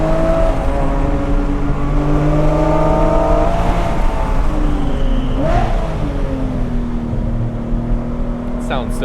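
A Porsche 997 GT3 with a 4.0-litre engine revs up and down with a steady high-pitched howl, loud and close, with pitch shifts as gears change.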